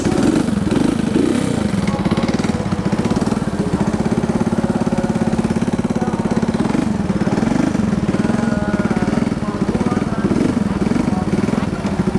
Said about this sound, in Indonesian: saya akan mencoba motor ini dengan menghidupkan motor ini